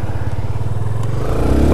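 A Yamaha Fazer 250cc motorcycle running with no mirrors fitted, a steady close engine drone with a low throbbing pulse that rises slightly in pitch toward the end, heard without talking.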